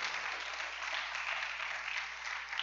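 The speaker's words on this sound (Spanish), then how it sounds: "Dele un aplauso al Rey." A church congregation at a worship service breaks into continuous applause for the King, an even wash of many hands clapping at moderate volume with no pauses.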